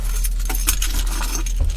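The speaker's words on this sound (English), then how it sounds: "I want to make sure that I've got the keys to my car." Car keys jangle and clink close by in a quiet setting, with several metallic rattling bursts over about two seconds and no talking.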